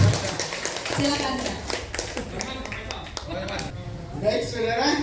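Applause from a school talkshow training audience welcoming a professor to speak, scattered claps over busy speech-like chatter and background noise, moderately loud throughout.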